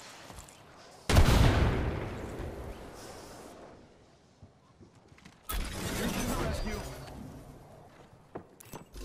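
A grenade in the Apex Legends shooter goes off with a loud, close blast that decays over a second or two. A second burst of gunfire follows, then sharp shots near the end, with voices talking between.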